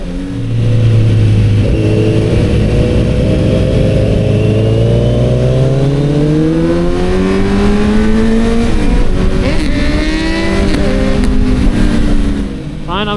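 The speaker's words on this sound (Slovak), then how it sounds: "Jak sa nám zladili tie zvuky otáčiek motorov na oboch Z-kách. Rovnaký motor." Two Z cars sharing the same engine rev together, their engine notes climbing and falling in near-unison, loud and close during a night drive through a city.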